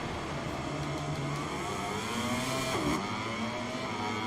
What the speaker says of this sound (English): Stop revving the engine.